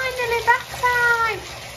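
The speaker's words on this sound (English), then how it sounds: "sprinkle some in the warm running water and let them dissolve" Warm water runs from a tap into a bathtub, a brief gushing splash heard close up, with a voice speaking over the flow.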